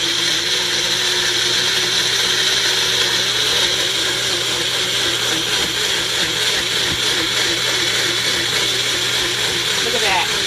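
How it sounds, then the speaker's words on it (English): A Magic Bullet blender runs nonstop at steady high speed, whirring loudly as it purees food for a potato salad. A voice talks faintly under the motor's constant drone. "I use a magic bullet. You can use your food processor if you want."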